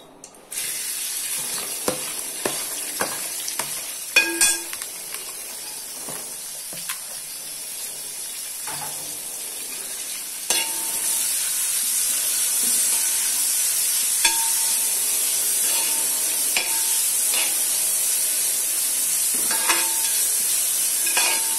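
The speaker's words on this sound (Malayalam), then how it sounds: "ഇനി നമുക്ക് ഇതിലേക്ക് അരിഞ്ഞു വെച്ച സവാള ഇട്ട് നന്നായി വഴറ്റാം." Chopped onions sautéing in hot oil for a boti curry: a continuous bright sizzle with scattered clicks and scrapes of stirring, growing louder and fuller partway through, with no voices.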